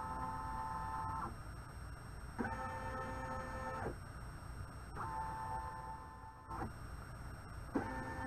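Embroidery machine stitching a hanging kitchen towel, running in repeated bursts of rapid whirring with short pauses between them, close and clear with no talk.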